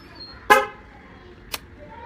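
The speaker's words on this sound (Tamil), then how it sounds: "வண்டியில் ஏர்ஹான் இருக்குது" An air horn on a Yamaha RX100 motorcycle gives one loud, short toot, followed a second later by a briefer, fainter blip, close by in a quiet setting.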